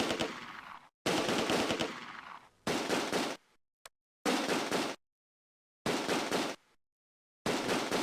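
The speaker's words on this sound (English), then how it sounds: "The rifle squads from 1st and 2nd Platoon provide covering fire" Rifle squads lay down covering fire in the WWII game Close Combat: A Bridge Too Far, at Nijmegen Bridge: about six separate bursts of rapid gunfire with short silent gaps between them.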